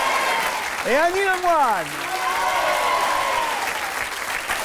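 Sustained applause from a television studio audience on a French talk show, steady and dense throughout, with a host's voice speaking over it near the start.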